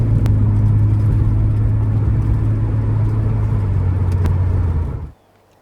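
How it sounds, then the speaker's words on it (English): A 1980s BMW 635 CSi E24 coupe driving at a steady cruise, its engine a constant low hum under road and tyre noise, then the sound cuts off abruptly near the end. "let's take the car back to the house now"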